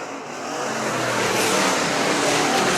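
Race cars roar around the track at Manistee County Fairgrounds. The engine noise swells and then holds loud and steady as the field sweeps along the long winding backstretch.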